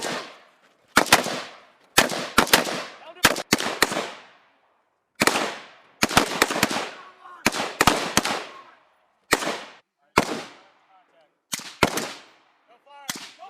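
Rifle gunfire from a U.S. Marine squad attack drill on a mountain range: sharp, loud single and double shots in irregular bursts with short echoing decays and brief silent gaps between.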